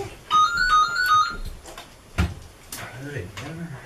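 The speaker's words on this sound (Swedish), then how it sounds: "Nu ringer den." An indoor telephone rings with a repeating electronic ringtone of bright, warbling tones in short bursts. Thumps and a voice follow after the ringing stops.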